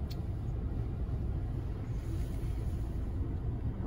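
A car driving on a snowy winter road, a steady low rumble of engine and tyres from inside the cabin, continuous and even throughout.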